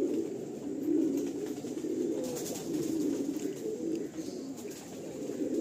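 Madrasi pigeons coo steadily in a low, throaty murmur, close and continuous, with no talk over them, while they are shown for sale in Garia, Kolkata.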